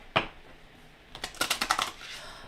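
An oversized oracle card deck is shuffled by hand: one sharp riffle snap, a pause, then a quick run of about seven crisp card flicks and taps, close and clear, with no voices.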